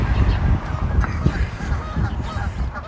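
Geese honk repeatedly at a lakeside, a busy overlapping chorus of calls heard nearby over steady outdoor ambience.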